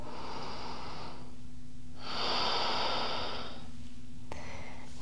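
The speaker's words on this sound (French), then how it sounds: "Restez pour 3 respirations en respirant par le ventre, respiration abdominale." Deep abdominal breathing in a vinyasa yoga practice: two long, airy breaths drawn and released through the nose and mouth, close and steady, followed by a short click and a brief softer breath.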